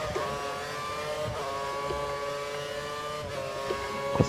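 An F1 car engine in the racing game F1 2013, held at a high steady whine on the rev limiter, with brief dips and surges as gears shift, loud and continuous.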